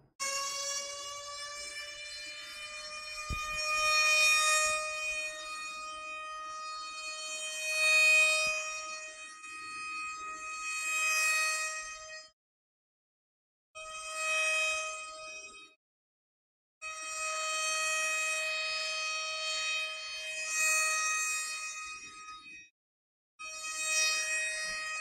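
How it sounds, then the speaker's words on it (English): A siren-like tone sweeps in loud repeated passes, each swelling and fading with gaps between, the pitch shifting as the moving source approaches and recedes. "See, it's Doppler effect, right?"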